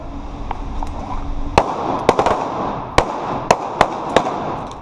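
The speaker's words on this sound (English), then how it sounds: "So I'm shooting, I'm engaging the threat, okay?" Taurus G2C pistol firing at a shooting range during a defensive pistol class, about eight sharp loud shots spaced irregularly under a low background rumble.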